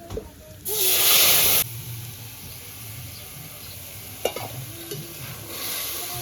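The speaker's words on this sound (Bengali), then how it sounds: "রসুনটা ভেজে নিয়েছি এবার এই যে তরকারিটা ঢেলে দেবো" Curry poured over garlic fried in oil bursts into a loud hiss for about a second, then settles into a steady sizzle with occasional clinks and scrapes of stirring, heard up close.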